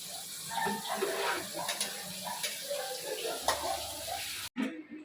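Cooked rice for chicken biryani poured into a strainer, with water rushing and splashing steadily for about four seconds before cutting off abruptly.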